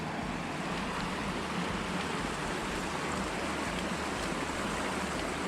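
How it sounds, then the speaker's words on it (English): The River Liza flows at a crossing in the Lake District, a steady broadband rush of running water, continuous and fairly close, with no voices. "The crossing of the River Liza."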